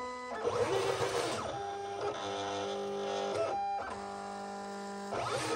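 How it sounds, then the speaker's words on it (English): A desktop cutting machine reads printed registration marks, its carriage motor whirring and buzzing in short tonal passes with brief pauses and direction changes, close and clear, with no voices. "So you can see the machine is now reading the registration marks."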